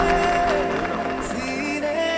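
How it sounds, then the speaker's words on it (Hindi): Audience applause and cheering at a school event, with a lively crowd clapping continuously amid music and voices, fairly loud throughout. "जोरदार तालियां"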